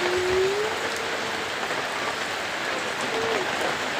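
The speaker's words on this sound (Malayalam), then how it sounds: "രാവിലെ തൊട്ട് നല്ല ശക്തമായ മഴയാണ്." Heavy rain falls steadily during a monsoon downpour with strong wind in Kerala, a dense, continuous hiss filling the scene at close range, with no voices.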